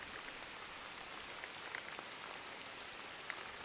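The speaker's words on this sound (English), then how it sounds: "By using the Filmora rain effect." Steady synthetic rain sound effect with a continuous hiss of falling rain and occasional faint drop ticks, soft and even throughout, no voices.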